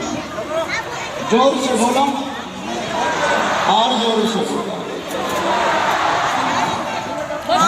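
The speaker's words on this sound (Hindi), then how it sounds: "कितनी ज़्यादा भीड़ है।" A large crowd gathered for a Bageshwar Dham katha in Burari, heard as a loud, dense hubbub of many voices with call-and-response chanting and shouting close by, continuing for the whole stretch.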